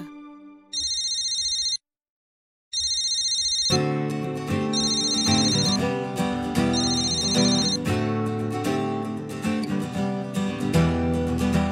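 A phone's ringback tone on an outgoing call, two short electronic ring bursts separated by silence, then a melodic ringtone tune plays on loudly and steadily with no talking.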